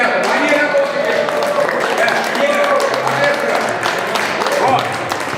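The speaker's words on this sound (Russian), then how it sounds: "Аплодисменты этим ребятам" A crowd at a poetry festival applauds the organizers with steady, sustained clapping that fills the whole stretch while a voice speaks over it on a loudspeaker.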